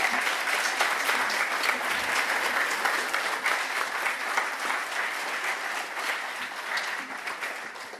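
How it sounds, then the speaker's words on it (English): Sustained, dense applause fills a hall as an audience cheers new inductees at a National Honor Society induction ceremony, steady and loud throughout before gently tapering at the end. "And let's give a round of applause for the new inductees."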